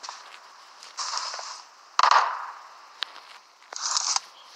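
Gunfire from a newly picked-up gun in the PUBG battle-royale video game, a few sharp cracks mixed with rustling movement and scattered clicks, fairly close.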